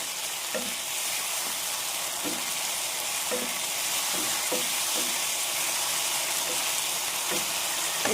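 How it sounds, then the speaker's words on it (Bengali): A paste of ginger and dried chili fries with tomato in a pan, a loud, continuous sizzle broken by regular scraping strokes of a spatula, close up and without speech. "যাতে টমেটোর সাথে এটাও ভাজা ভাজা হয়ে যাবে"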